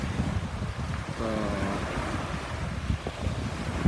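Sea waves wash against the shore in a strong wind, a continuous surf-and-wind roar with a brief tonal hum partway through.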